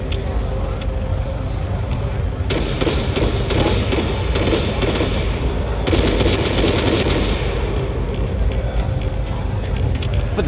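Gunfire from AI soldiers in the ArmA 3 military shooter, bursts of automatic fire and individual shots cracking over a busy battlefield backdrop, growing denser partway through with a narrator speaking over it.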